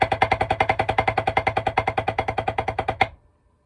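Snare drum playing a duple roll for two bars in a percussion feature, a steady run of sharp, evenly spaced strokes that gradually slows, ending on a final accented hit and a brief ring-out.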